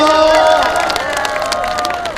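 Crowd applause and cheering at an outdoor trot music concert stage in Pohang, steady and loud for the whole stretch with musical tones ringing over it.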